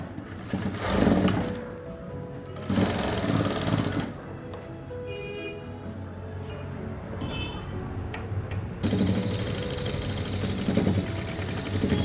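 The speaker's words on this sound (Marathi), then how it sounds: "तर आपण ही शिलाई मारून घेऊया." Domestic sewing machine stitching a seam on a katori blouse in bursts, a rapid mechanical clatter running for a couple of seconds, pausing, then starting again, with quieter ticking in the gaps.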